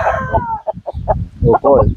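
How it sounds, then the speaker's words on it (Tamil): A rooster bought from Coimbatore, kept for cockfighting, clucks and crows in a series of short, loud, harmonic calls close by, with a longer burst near the end. "கோயம்புத்தூர்ல இருந்து வாங்கின சேவல்"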